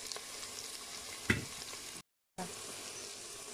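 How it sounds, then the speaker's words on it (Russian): Onions, carrots and potatoes frying in a soup pot give a faint, steady sizzle, with one brief knock near the middle and a short dropout of silence. "Вот у меня лук и морковь жарятся. Я добавляю теперь картошку туда."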